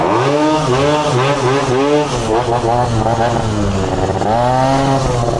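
A scooter engine on a night ride revs through a tunnel, its buzzing tone rising and falling in waves and echoing off the enclosing walls, loud and close throughout.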